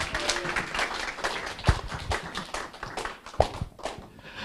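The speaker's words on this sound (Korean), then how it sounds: "큰 박수로 모시겠습니다" Scattered clapping from a conference audience welcoming a speaker to the stage, uneven and fairly thin, with a few sharp louder claps and thumps amid the crowd noise.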